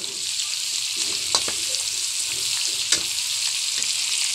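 Pancit bihon rice noodles being mixed in a hot pan, a steady bright sizzle with a few sharp clinks and scrapes of the utensil, no voices.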